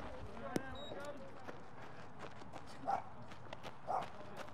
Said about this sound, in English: we've had a dog barking